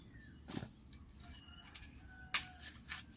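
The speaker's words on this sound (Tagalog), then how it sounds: "Maririnig mo lang ang uni ng ibon." Birds calling and squabbling in quiet mountain forest, a few sharp chirps and short scratchy bursts scattered over faint background, fairly distant and soft.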